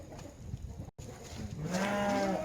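A small goat lets out a long, wavering bleat in the second half, close and clear above a faint farmyard background.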